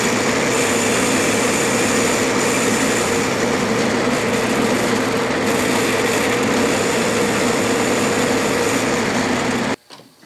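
A metal lathe turns down stock ahead of a cut-off, giving a loud, steady whir and hum with a faint tone throughout before it stops abruptly near the end.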